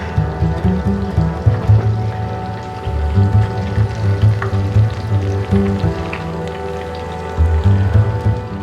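Jumbo quails deep frying in hot oil give a steady, dense sizzle and crackle that runs throughout, close and fairly loud, with no speech over it.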